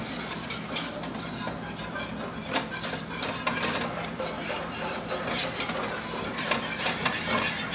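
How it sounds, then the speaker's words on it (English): A whisk works steadily through thick Mexican mole sauce, producing a continuous close scraping, rubbing texture with quick repeated clicks against the pot. "And just keep whisking."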